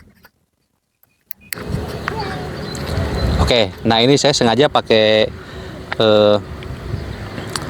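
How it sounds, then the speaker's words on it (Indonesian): Through a TNW N9 wireless microphone with noise reduction switched off, strong wind rumbles and buffets while vehicles pass behind someone speaking outdoors; his voice sits on top of a constant low roar after a short silent start. "bisa langsung terdengar suara angin yang cukup kencang, kemudian juga kendaraan di belakang lumayan terdengar dengan jelas ya"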